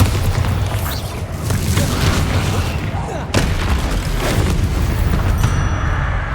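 Bombarda blast spell in the Hogwarts Legacy game: a dense, loud, booming rumble of spell combat with a sharp explosive crack near the middle, then continued rolling battle noise.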